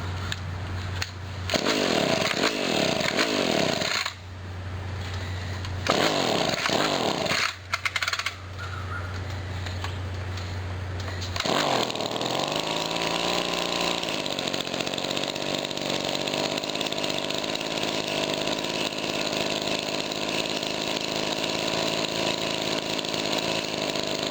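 A small engine is started on full choke with a little throttle after the idle screw was backed out. Several loud pulls and sputtering bursts are followed by the engine catching and settling into a steady, close, continuous idle.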